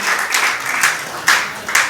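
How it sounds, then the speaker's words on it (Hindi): Loud, steady applause from a congregation at a Padma Purana sermon in Agra, with accented claps surging roughly every half second in a rhythmic pulse. "जैसी आपने ताली बजाई ना, ऐसी वहां ताली बज गई"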